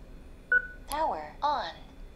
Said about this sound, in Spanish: y ahí les indicó que está encendido y les indicó que se acaba de conectar